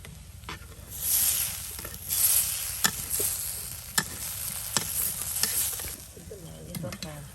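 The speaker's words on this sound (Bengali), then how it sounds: "এই যে মশলা কিন্তু একদম সুন্দর করে কষিয়ে নেওয়া হলো" Masala spice paste frying in a pan, a continuous sizzle with periodic scraping and stirring clicks from a utensil, close and fairly loud, with no talking.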